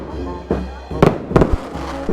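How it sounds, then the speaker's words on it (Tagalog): Fireworks bursting at a Filipino town fiesta, a few loud sharp bangs in quick succession close by, with people talking and reacting throughout. "May fireworks ka pa ya."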